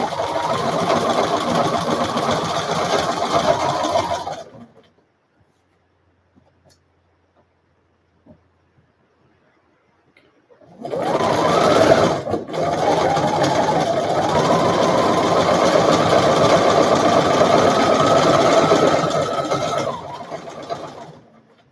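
Sewing machine running as it stitches a seam on a fabric face mask, steady mechanical whirring in two long bursts separated by several seconds of near silence, close and fairly loud.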